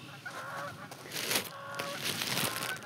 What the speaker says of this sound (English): Canada geese are coming in